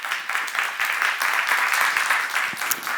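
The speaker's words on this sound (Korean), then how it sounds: "박수를 하세요." A church seminar audience breaks into steady, dense applause, many hands clapping together for a few seconds at moderate loudness without a break.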